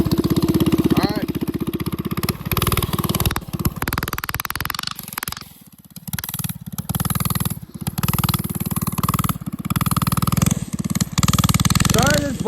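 A small mini bike engine revs and buzzes while riding through snow, surging and dropping with throttle changes and briefly cutting out midway, with a person talking over it.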